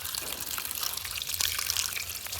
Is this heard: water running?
yes